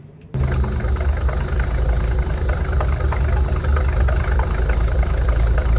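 An old farm truck engine starts up abruptly after a brief quiet moment, then rumbles steadily at a low idle, loud and close with no speech.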